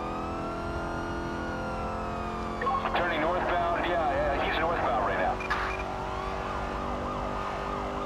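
A police car's engine drones steadily through a GTA 5 highway pursuit, with a brief burst of warbling siren in the middle. Engine tone holds fairly even and close, and a voice talks over part of it.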